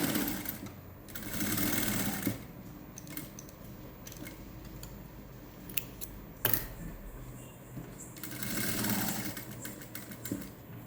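A sewing machine stitches piping onto a woollen patchwork blouse, its steady whirring running in bursts with short pauses between stitching runs, close and fairly quiet.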